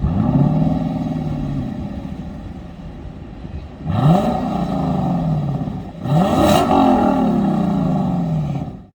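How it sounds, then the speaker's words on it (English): A 2021 Lexus LC 500 Convertible's 5-liter V8 sounds its exhaust note, a loud close rumbling idle followed by two sharp revs that rise and fall in pitch. "Have a listen to this exhaust note from this V8 5-liter engine."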